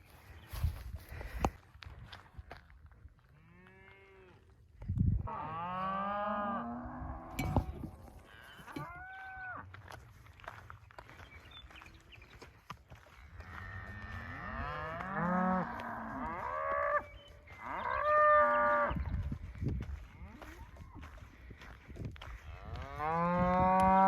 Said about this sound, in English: Cows are still yelling at me